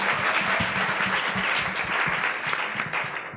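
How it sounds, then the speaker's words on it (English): An audience at a talk on women in tech claps for a group of men, a dense, steady wash of many hands applauding without a break. "So, gentlemen, applause."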